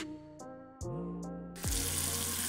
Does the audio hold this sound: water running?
yes